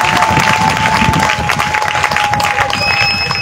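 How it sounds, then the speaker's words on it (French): A crowd at a Laurent Gbagbo political campaign rally claps and cheers in a loud, close burst, with voices and a whistling tone mixed into the noise. "Applaudissez un peu."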